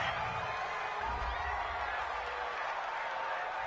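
A video game football stadium crowd reacts to a roughing-the-passer penalty call with a broad, steady roar of murmuring and jeering that holds at an even level throughout.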